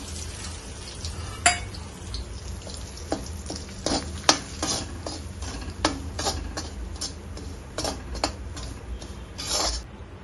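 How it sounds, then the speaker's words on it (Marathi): Fenugreek (methi) stirred and roasted in ghee in a pan for sugar-free laddus: a steady low sizzle broken by repeated scraping and clicking strokes of the spoon, near and moderately loud, with no talking. "तुपात व्यवस्थित भाजलं की थोडासा कडवटपणा कमी होतो मेथीचा, म्हणून आपण थोडस तूप अजून टाकून भाजून घेऊया"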